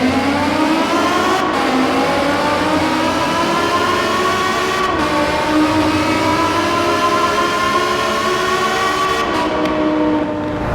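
Car in the Forza Horizon 4 racing game, downshifted and floored inside a tunnel: a loud, steady engine roar that climbs in pitch through the gears, with brief dips at each shift and a reverberant, enclosed tone throughout.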